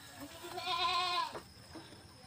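A newborn goat kid gives one clear, wavering bleat lasting about a second, close and fairly loud, during a breech kidding.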